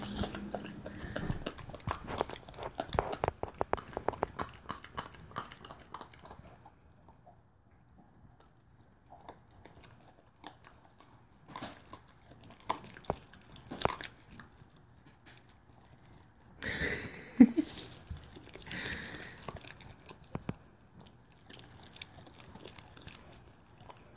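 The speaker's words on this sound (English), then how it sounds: "You want to chew every little piece." An 11-week-old Great Pyrenees puppy chews a raw prey meal, with irregular wet crunching and clicking bites in bursts and pauses, close-up and fairly quiet.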